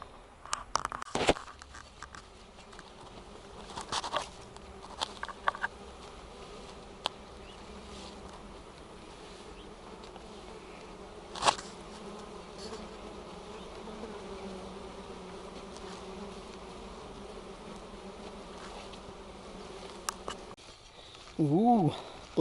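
Insects buzz steadily outdoors on freshly cut grass, a faint continuous drone with occasional louder passes and scattered brief knocks and rustles.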